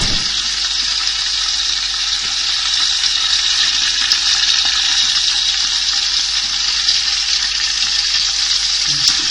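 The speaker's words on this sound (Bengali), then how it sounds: "পরে একটু গরম মশলা আরও কিছু তেল আমি দিয়ে গরম মশলাটাকে আমি একটু ভেজে নেব দুই তিন মিনিট" Garam masala fries in hot oil for a quail roast, giving a loud, close, continuous sizzle that holds steady throughout with no voices.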